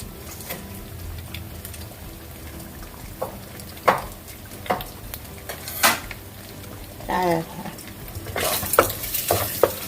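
Frying in a pan while making fried rice from leftover rice, with a low sizzle under irregular spatula scrapes and clanks against the pan, growing busier toward the end.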